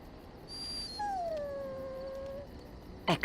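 A dog in Dragon Age Origins lets out a drawn-out, mournful howl that slides downward and fades, preceded by a brief high whine and ending with a short sharp bark-like burst.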